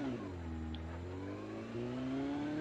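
A steady motorcycle engine drone in the game Call of Duty Mobile, pitch rising and falling as it revs and cruises, continuous and fairly loud with no talking.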